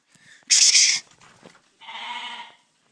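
Rams and sheep from Kyrgyzstan bleat at a livestock pen, with a loud, close bleat followed by a second, lower, longer one after a short pause.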